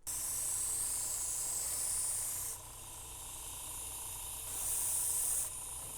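Spray paint hisses onto a small TootsieToy toy van in two bursts, a long one at first, a pause with faint background, then a shorter second burst, close and bright.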